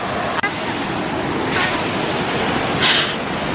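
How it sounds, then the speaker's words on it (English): Water rushes steadily at a waterfall in Laos, a loud, unbroken broadband roar close to the listener, with a sharp click near the start and small swells in the noise. "There's this little bit up here and there's another part of the waterfall up there."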